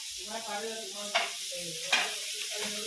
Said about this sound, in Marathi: पॅनवरती फ्राय करायला घेतले तव्यावर